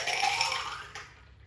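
Bloody Mary poured from one glass to another over ice, a brief splashing liquid pour with a light clink near the end, close and fairly quiet, no talk.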